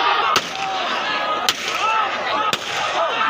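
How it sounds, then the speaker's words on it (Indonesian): Police firing warning shots into the air during a brawl at a dangdut concert: three sharp cracks spaced about a second apart over a loud, noisy crowd. "Berkali-kali tembakan ke udara dilepaskan."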